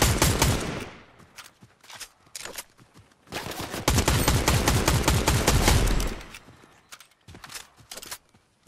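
Bursts of rapid gunfire in the video game Fortnite rattle out, some long and sustained, others short and clipped, with brief pauses between volleys.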